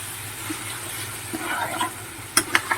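Chicken skin curry stir-frying in a pan, a low steady sizzle with soft stirring scrapes and a few sharp clinks of the spatula near the end.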